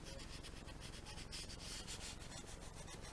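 Light, rapid sanding strokes smooth excess paint on a plastic model kit of a Klingon or Romulan D7 battle cruiser, a steady close-up scratchy rubbing that continues throughout.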